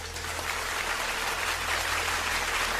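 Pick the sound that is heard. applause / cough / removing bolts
applause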